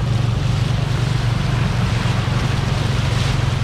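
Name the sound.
fast-flowing floodwater with waves from passing cars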